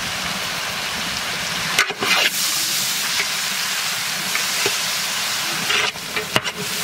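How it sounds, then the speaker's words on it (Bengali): Beans, carrot and capsicum stir-fry in a large pan cooked for village people, a loud steady hiss and sizzle punctuated by a few abrupt scraping strokes of the spatula, with no talking. "তো আমাদের বিনস আর গাজর ক্যাপসিকাম সুন্দর করে ভেজে নিয়েছি"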